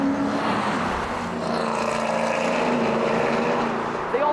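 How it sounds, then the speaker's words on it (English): Ford Mustang GT race cars at a racing school lap the track, a continuous loud engine roar with shifting tones, heard at some distance without letup. "These Mustangs are pretty much on track the entire time."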